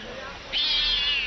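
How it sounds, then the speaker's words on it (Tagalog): A single drawn-out cat meow rises suddenly out of quiet background noise and holds for nearly a second. "Pusa lang pala eh."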